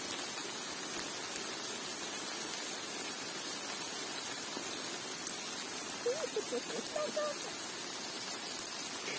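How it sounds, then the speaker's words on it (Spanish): Steady rain mixed with hail pours down outdoors on a mountain trail during a storm, a dense, even hiss filling the whole stretch with faint voices briefly audible under it. "Miren, sigue lloviendo más."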